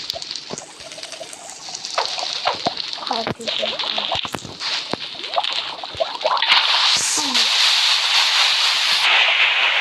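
Hissing, steamy sizzle with splashy bursts as lava meets water in a game, under loud excited talking and clicks.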